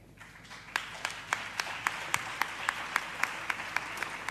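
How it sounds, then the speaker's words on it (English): An audience at a university campus safety programme launch applauds with a soft, steady wash of clapping. Distinct, regularly spaced louder claps stand out near the microphone, and the whole sound is fairly faint and distant. "May we please give him a much bigger round of applause."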